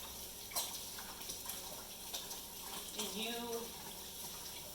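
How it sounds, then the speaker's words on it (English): Water runs from a kitchen tap as hands are rinsed, a soft steady splash at moderate distance, with someone speaking briefly over it. "So now I'm gonna wash my hands off."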